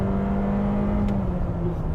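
A 2023 Honda CR-V EX-L AWD in sport mode accelerating hard in a 0-60 run, a steady droning engine hum with a rising tone heard from inside the cabin, loud and continuous.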